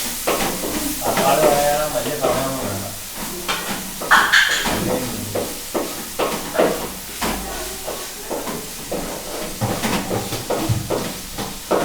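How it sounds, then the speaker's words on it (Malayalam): Tomatoes sauté in a pan for noodles with a loud, close sizzle and hiss, while busy spatula scrapes and knocks repeat irregularly throughout. "തക്കാളി കൂടെ വഴറ്റിയെടുക്കാം."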